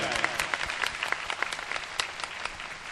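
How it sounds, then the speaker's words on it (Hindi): Applause from the crowd under a tent at a political party rally in Sagar, a dense patter of clapping that swells and flickers for a few seconds with no voice over it. "एक बार जोरदार तालियां बजाइए, पूरा पंडाल गूंज जाए, पूरा सागर गूंज जाए।"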